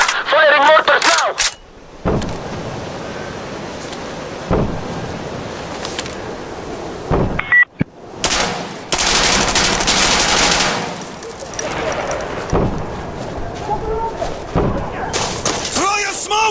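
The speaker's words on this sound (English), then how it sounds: "Firing mortars now!" Mortar fire and heavy gunfire in a video game, with sharp blasts and rapid bursts over a rushing, wind-like rumble, while players shout to one another throughout.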